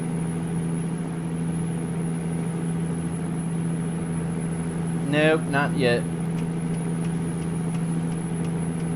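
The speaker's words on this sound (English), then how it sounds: "listen to that engine work" A truck engine runs with a steady, low droning hum that holds through the whole stretch, with a short burst of nearby talk partway through.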